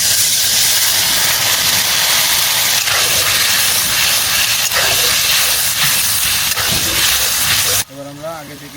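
Water poured onto hot oil and spice masala for pork curry sizzles loudly and steadily up close, a dense hiss that stops abruptly near the end and gives way to a quieter voice.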